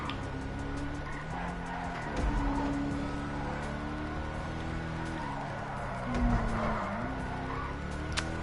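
Declasse Walton L35 drifting in GTA Online, a steady engine drone with tires sliding and skidding in two swells, near and moderately loud, with no talk over it.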